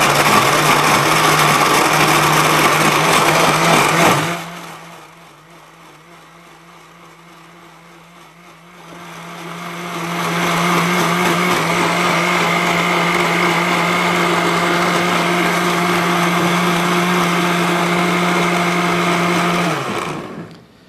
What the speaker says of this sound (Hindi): ये टमाटर को हमने जग वाली मशीन में डाल लिया, और इसके बाद हम इसको अच्छी तरह से हमने ग्राइंड कर लिया है।